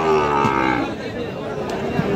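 Sahiwal bull calves at a weekly cattle market in Ghoraghat, Dinajpur, give a drawn-out moo over a steady background of crowd chatter and market noise.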